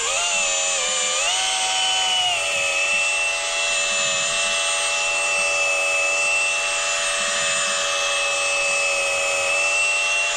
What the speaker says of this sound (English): And then you take your hone and you just use it like a driver.